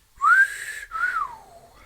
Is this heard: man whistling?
yes